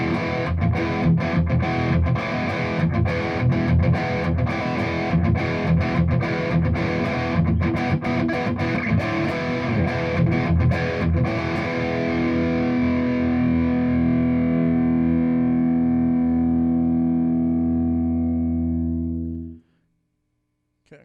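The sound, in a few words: electric guitar with overdrive distortion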